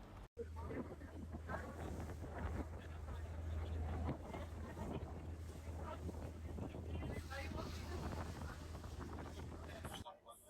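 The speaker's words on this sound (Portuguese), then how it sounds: "o ferryboat São Bartolomeu V se aproxima aqui do porto" Wind rushing over the microphone aboard the ferryboat São Bartolomeu V as it approaches port on an Amazon river voyage from Manaus to Santarém, steady loud blustery noise with a low engine drone beneath, continuous throughout.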